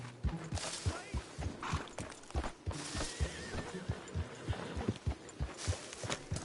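A horse in the Red Dead Redemption 2 video game snorts and whinnies while its hooves thud in an uneven clip-clop rhythm, moderately quiet against a soft game background.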